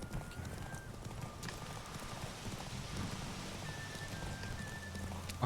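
Horse hooves clip-clopping at a steady galloping rhythm in The Witcher 3 on Death March difficulty, moderately loud and continuous over a faint rain-like hiss and low game ambience.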